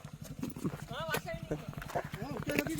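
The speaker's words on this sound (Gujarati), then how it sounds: "આજે ઘોડી બરાબર હાલતી નથી વસીમભાઈ મેરે." A mare walks with a rider aboard in stormy weather, her hooves clip-clopping in a steady, close rhythm throughout while people talk over it.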